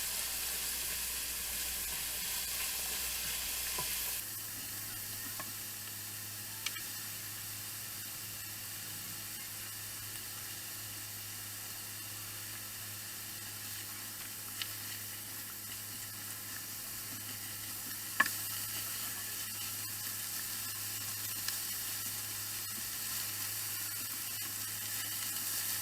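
Onions and garlic sizzle steadily in a pot for clam chowder, a continuous hiss with occasional clicks of stirring.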